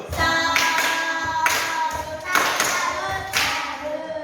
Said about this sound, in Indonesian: tepuk salut untuk kita semua. Tepuk salut.